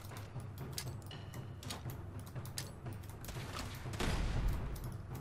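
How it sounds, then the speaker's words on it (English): Gunfire in the video game Fallout: dense, overlapping shots crackling steadily in a continuous fusillade, swelling louder near the end, with no talk. "I think I'm getting shot from the right side too."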